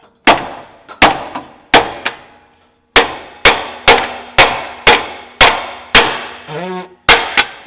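A hammer strikes a corroded metal car part about a dozen times: sharp, ringing metallic clangs at an uneven pace, close and loud, with a short squeak between blows near the end.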